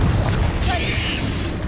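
Confringo fire spell blast from Hogwarts Legacy, a loud dense booming burst with crackling texture sustained throughout, with a brief whooshing flare in the middle.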